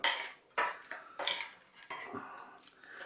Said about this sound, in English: simply we're going to mix this together.